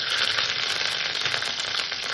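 Ginger paste fries in hot oil with a close, steady sizzle and crackle that runs without a break.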